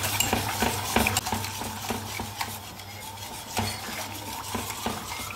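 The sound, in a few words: stirring water boiling in a pot for vermicelli soup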